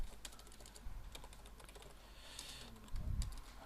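Keys on a computer keyboard clatter as code is typed, with quick irregular clicks heard up close but at low volume and no voices present.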